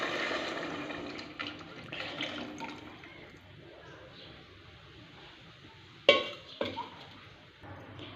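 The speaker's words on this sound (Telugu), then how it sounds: "సాంబార్ పొడి అన్నీ వేసుకొని పులుసు వేసేసుకుంటున్నాను." Tamarind broth and sambar powder are poured into a pot of onion stew, giving a splashing pour with clinks of a metal utensil against the pot, close by, with a sharp clatter partway through and speech nearby.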